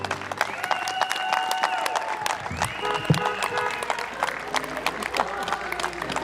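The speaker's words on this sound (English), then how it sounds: "Let's give him a round of applause." Crowd applause for Mr. Jim Klennert at the Lincoln High School Class of 2020 graduation. It runs steadily for several seconds, mixed with long sustained horn-like tones, with some voices in the crowd.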